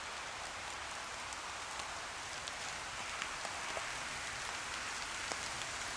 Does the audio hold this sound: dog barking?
no